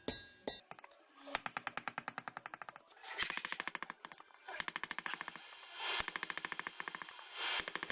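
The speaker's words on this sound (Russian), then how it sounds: "Поэтому удаляю втулки из головки. Беру выколотку нужного размера и приступаю к работе." Drift punch hammered against valve guides to drive them out of a Volkswagen Crafter 2.0 TDI cylinder head, a rapid metallic clatter of close, sharp blows in quick bursts, separated by short pauses.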